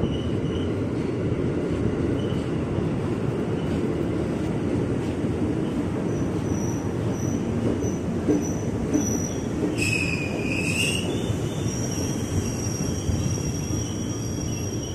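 A 12-car commuter train rumbles steadily into Manggarai station, Jakarta, at evening rush hour, wheels squealing high and sharp partway through over the constant low roar of the carriages.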